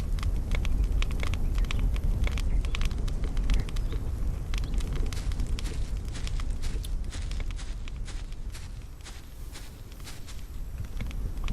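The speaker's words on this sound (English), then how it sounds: "I love the sound of the crackling fireplaces" Crackling fireplaces in the video game Solarpunk, a steady dense stream of small pops and snaps over a low rumble, continuing throughout at moderate loudness.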